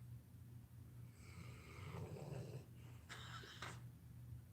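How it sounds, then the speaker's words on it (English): Faint, close snoring from a sleeping dog: a couple of raspy, drawn-out breaths over a low background hum. "Can y'all hear Goliath snoring?"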